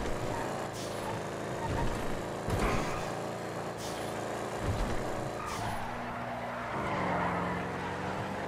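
An 8F Drafter sports car races in GTA FiveM, its engine revving loudly and shifting up and down through the gears, with a steady high-revving drone close by and no talking.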